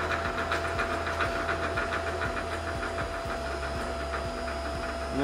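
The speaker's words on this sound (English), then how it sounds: "you hit stop, it'll ramp down" Bridgeport milling machine running off a single-phase to three-phase inverter, a steady loud motor drone with a faint rhythmic thump and hum, close and continuous, no voices.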